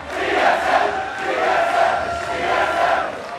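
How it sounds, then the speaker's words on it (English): A large crowd at PAX Prime 2013 chants "TSM" in unison for Team Solo Mid, loud rhythmic rising and falling yells filling a big hall. "TSM has an advantage because they're all yelling TSM"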